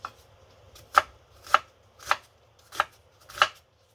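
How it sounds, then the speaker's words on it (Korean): A knife minces onion and green onion on a cutting board in five sharp, evenly spaced chops, close and crisp with quiet gaps between strikes. "양파와 파를 다져서 넣어 봅니다"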